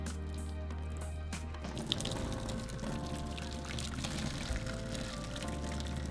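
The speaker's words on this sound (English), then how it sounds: "So now we're just going to drain the water and let them cool down for a little bit." Water pours and splashes steadily out of a cooking pot as tomatillos are drained, a continuous close gushing stream with a few drips.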